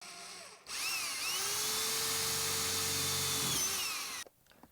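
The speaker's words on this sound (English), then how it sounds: "drill through the floor pan" A power drill whines loudly and steadily as it bores through the steel floor pan of a 1965 Mustang, one continuous burst of about three and a half seconds in a quiet garage.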